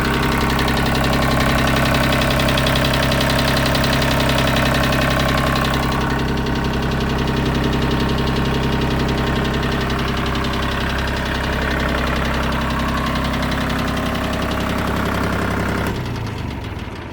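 A mini tractor's engine idles steadily and loudly up close for the whole stretch, a dense, even mechanical drone with a fine knocking texture and no voices.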